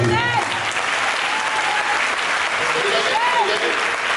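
A church congregation claps steadily and loudly, the applause continuous and full while voices call out and talk underneath it.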